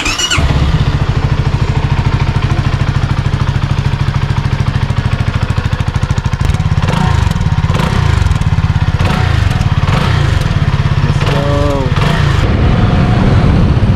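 A CF Moto NK300 motorcycle engine cranks, catches and runs with a loud, close, rapidly pulsing idle, then is revved in several uneven blips over the steady running.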